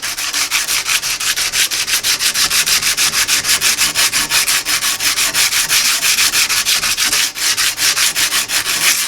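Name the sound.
abrasive sanding of a forged blade edge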